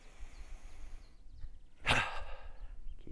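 A single forceful exhale of breath during a qigong breathing exercise, one short airy whoosh that stands out near and clear against a quiet room.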